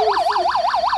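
A toy fire truck from a children's new playset sounds its electronic siren, a rapid rising-and-falling wail repeating about five times in a second, loud, close and steady with no talk over it.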